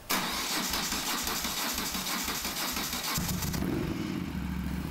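A 1996 Moto Guzzi Centauro motorcycle engine cranks with a rhythmic pulsing starter, catches and settles into a loud, steady idle, close up with no talking.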